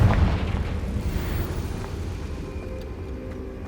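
A Confringo fire spell explodes in the video game Hogwarts Legacy, opening with a loud deep boom that rolls off into a dense rumbling, crackling tail amid game ambience.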